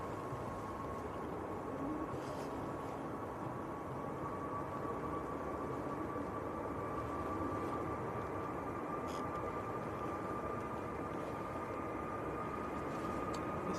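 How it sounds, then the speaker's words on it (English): An EasyJet airliner bound for Tenerife at Manchester Airport on a windy day gives a steady, faint, broadband engine roar with a thin sustained whine, continuous and distant throughout. "This is EasyJet to Tenerife."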